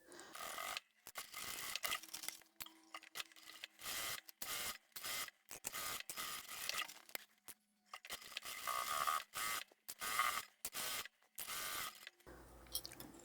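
A home sewing machine triple-stitches a strap onto a drawstring backpack in close, rapid mechanical bursts that start and stop repeatedly, separated by short pauses, with no voices.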